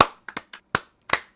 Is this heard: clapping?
yes